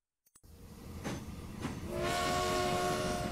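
A train in the Transport Fever video game pulls away with a couple of clicks, then swelling rumble and a tonal whine that grows to a steady loud rolling drone.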